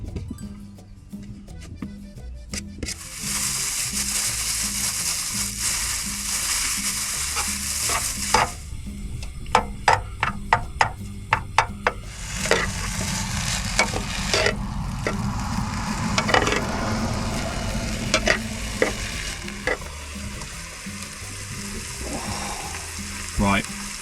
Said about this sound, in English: Let's get those mushrooms in the pan.